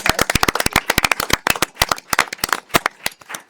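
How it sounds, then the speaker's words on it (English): Applause for a council vice president at a mayor and council meeting, sparse, loud individual claps from a few nearby people in an uneven rhythm that thins toward the end. "Let's give him a round of applause"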